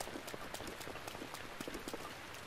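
Rain falling in the video game Zelda: Breath of the Wild, a steady patter of drops with soft repeated ticks spread evenly throughout, fairly quiet and with no talking.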